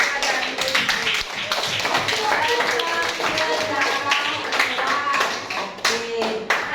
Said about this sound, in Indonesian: tepuk tangan buat Depa dan Yusuf